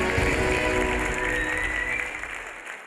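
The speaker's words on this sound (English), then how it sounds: "Let's give another round of applause for Wen Xiaoyu." Steady, full crowd applause fills a Miss World pageant hall for Miss World 2012 Wen Xiaoyu, sustained and loud throughout before easing slightly at the end.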